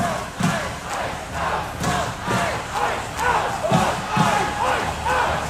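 A large crowd protesting ICE raids marches through Minneapolis toward the Target Center, chanting together in a loud rhythmic roar that rises and falls in regular pulses.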